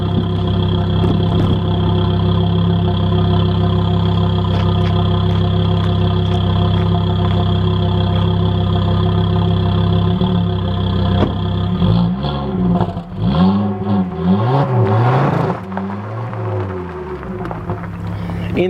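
A turbocharged Ford Focus XR5 with its rear muffler deleted idles with a steady low rumble, then revs up and down in several throaty bursts, loud and close.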